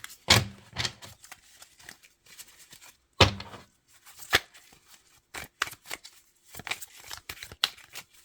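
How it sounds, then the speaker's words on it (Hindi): Tarot cards being shuffled by hand in short, crisp riffling bursts separated by quiet gaps, close and fairly loud, with no one talking. "सर्दी है, इस वजह से कार्ड शफल्स नहीं हो पा रहे, लेकिन हम कर देंगे।"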